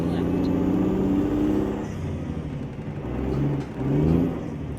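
A Mack B62 truck with a 15-speed twin-stick triplex transmission pulls its trailer onto pavement, its engine a steady, loud, low diesel drone that swells slightly near the end.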